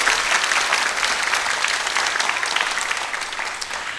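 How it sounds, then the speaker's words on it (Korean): Audience applause for young performers at a Korean summer music school concert, a steady dense wash of many hands clapping close by for about four seconds without pause. "박수 한번 보내주시겠어요?"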